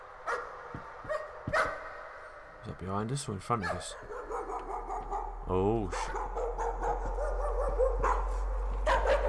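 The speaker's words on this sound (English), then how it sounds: "Sounds like a dog." Dog barking in the horror video game Layers of Fear, a run of sharp repeated barks that grows louder and closer over a rising low rumble, while someone speaks over it.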